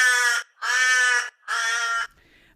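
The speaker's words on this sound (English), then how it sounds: "So this is the Terrigen Crow." A Torresian crow calls three times in quick succession, loud harsh nasal caws of roughly even length with short gaps between, close and alone with no talking.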